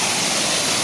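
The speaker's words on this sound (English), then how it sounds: "It's just a natural waterfall" Chereres Waterfall in Kericho, Kenya, a natural waterfall, roars as a loud, steady broadband rush of falling water, close and unbroken with no voices.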